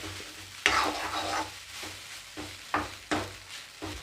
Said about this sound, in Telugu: ఇప్పుడు హై ఫ్లేమ్లో పెట్టి ఈ సాస్ అన్నీ కలిసేదాకా కలపాలి.